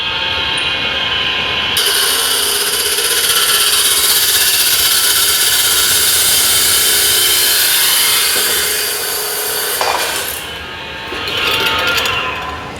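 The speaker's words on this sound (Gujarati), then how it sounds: "હવે આપણે કાપશું પાઇપને મશીનથી ચાલુ થઈ ગયું" A machine cuts long pipes into short pieces in rainy Morbi, giving a loud, steady grinding roar that runs almost continuously and dips briefly near the end.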